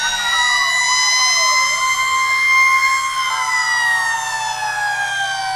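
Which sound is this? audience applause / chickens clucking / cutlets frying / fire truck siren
fire truck siren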